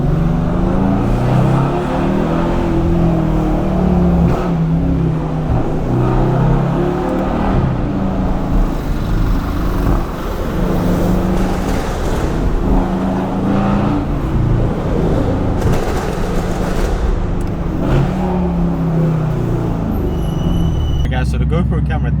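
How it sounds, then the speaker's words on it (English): A Mercedes-AMG engine drones loud and low on a Central London outing, holding a heavy, steady rumble close by while people talk over it throughout. "Ah, fine if you want me to rev it."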